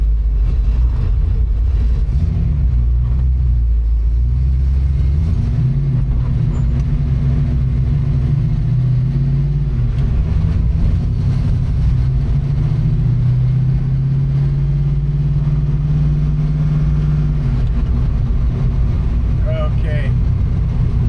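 A 1963 Ford Falcon engine droning while driving on the road, loud and steady inside the cabin with rising and falling pitch as it accelerates and shifts.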